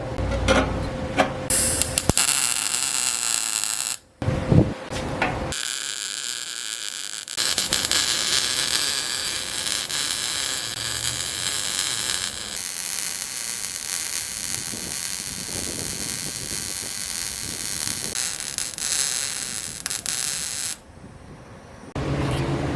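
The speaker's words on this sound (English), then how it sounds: "got this thing all welded in all the way around" An electric exhaust cutout is welded onto a car's exhaust pipe with a buzzing, crackling arc that runs in long continuous stretches, broken by short pauses, close and steady without talk.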